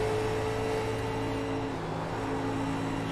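A 1987 stock car at Dover Downs in a racing video game drones steadily, its engine note dipping as the driver lifts off the throttle, loud and continuous with no talk.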